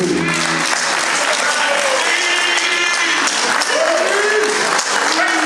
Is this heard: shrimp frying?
no